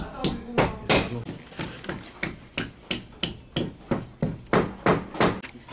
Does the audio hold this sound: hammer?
yes